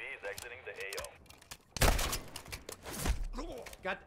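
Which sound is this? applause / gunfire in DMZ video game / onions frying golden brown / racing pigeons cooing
gunfire in DMZ video game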